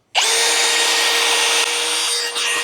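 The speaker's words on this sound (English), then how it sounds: "If we go into speed 1." A cordless drill in speed 1 whirs steadily at low speed, straining as an auger bit bores into wood, with a slight dip in pitch near the end.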